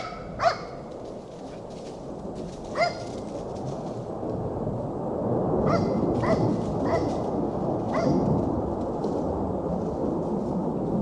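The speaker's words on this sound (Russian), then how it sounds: "Собаки уже гавкают постоянно, когда или самолет, или ракета" Dogs barking outdoors near a dugout as a missile passes, a few sharp distant barks at the start, then several more in a quick cluster over a steady low rumble.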